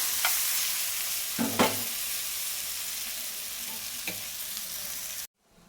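Steady, close sizzling of rohu fish head and ash gourd frying in a pan, broken by a few spatula scrapes and knocks, before cutting abruptly to near silence at the end.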